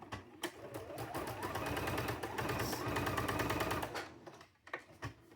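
A sewing machine stitches a diagonal seam across a folded fabric corner, a close, steady mechanical whir with rapid needle clatter for about four seconds before it stops and a few soft handling clicks follow.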